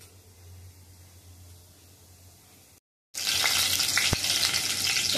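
Mustard seeds and cumin tempering in hot oil: a quiet hiss cuts out briefly, then bursts into a loud, crackling sizzle with a sharp pop.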